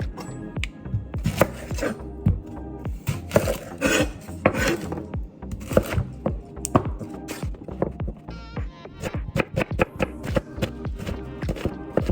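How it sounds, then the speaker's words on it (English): A knife chops a yellow onion on a cutting board with steady, close, fairly loud strikes, some quick runs and some spaced cuts, during cooking prep for soup. No one talks. "I'll start by chopping up 1 yellow onion."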